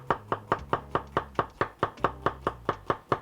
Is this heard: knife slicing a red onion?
yes